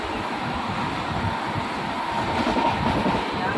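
A train runs along the line toward Haridwar, heard from inside the carriage as a steady, loud rumble and rushing roar with no clear clacks, continuous throughout with no talking.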